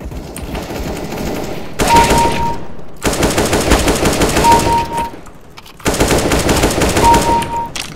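An AK-47 fires long rapid automatic bursts in a CS:GO deathmatch on Dust II, loud and close, three sustained volleys separated by brief pauses, with no talk.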